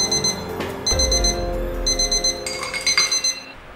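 An electronic buzzer beeps in repeated high bursts, with a short pause between groups and a fast, rapid pulsing pattern near the end.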